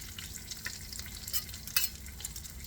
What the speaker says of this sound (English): You can saute onions.